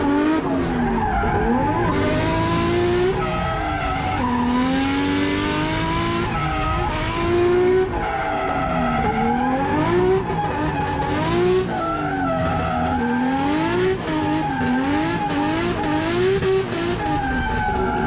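A drift car powered by an RB20 engine revs hard through a competition drift run, its engine note surging up and down repeatedly while tires squeal and skid, loud and close throughout.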